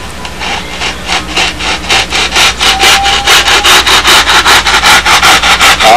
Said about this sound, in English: Obviously try to hold the coping saw at a 90 degree angle.